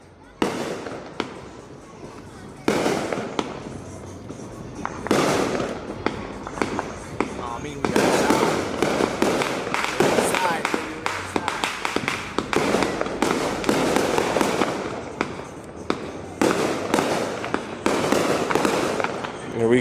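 Fourth of July fireworks and firecrackers burst repeatedly in Allentown, a rapid irregular string of loud sharp cracks and pops, some close and some distant, with people talking and calling out between the blasts.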